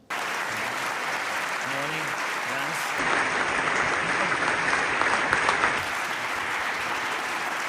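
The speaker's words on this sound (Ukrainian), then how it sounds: "Овації не вщухали." Sustained applause from a large audience at the Munich Security Conference, steady and dense throughout, swelling a little in the middle with a voice briefly heard at the start.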